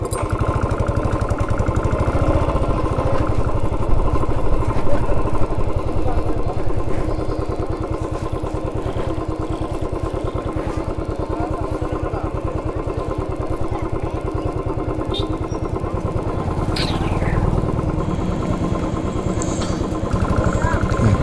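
A Royal Enfield Thunderbird 350x single-cylinder motorcycle engine and silencer thumps steadily and close for about twenty seconds on a road ride, a continuous low rumble with brief higher clatter near the end.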